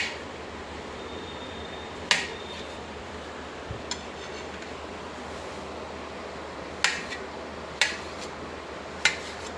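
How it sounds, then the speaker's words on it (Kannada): A knife cuts dragon fruit into small pieces, giving a handful of sharp, isolated taps on a board spaced a second or more apart over a quiet background hiss, with no talk. "ಈಗ ಇದನ್ನು ಸಣ್ಣ ಸಣ್ಣ ಪೀಸ್ಗಳಾಗಿ ಕಟ್ ಮಾಡ್ಕೊಬಿಡೋಣ"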